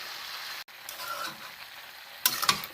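A spoon stirs mixed vegetable labda with grated coconut in a pan over a soft background sizzle, ending in a couple of short, close scraping strokes.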